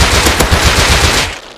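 A fully automatic gun fires in the video game Rust, a loud, close, rapid burst of shots in an even rhythm lasting over a second before cutting off.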